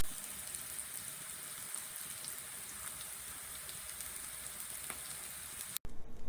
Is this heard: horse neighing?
no